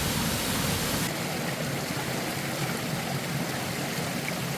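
A cool mountain valley stream on a Jirisan trail flows steadily, a dense unbroken rush of water that stays close and even throughout.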